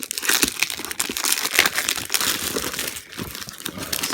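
Plastic packaging for Tronical G-Force guitar tuners being pulled open, a dense stream of loud, close crinkling and crackling with short snapping bursts and a brief pause near the end.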